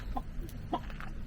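A rooster in a countryside yard on Tenerife lets out a few short, faint clucks over a low outdoor background, quiet and somewhat distant with no speech.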